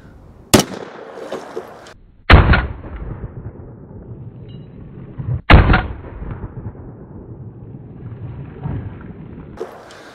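A KelTec CMR30 rifle in .22 Magnum fires at 2-liter bottles outdoors on a range, with three sharp, loud shots spaced several seconds apart, each followed by a rumbling tail.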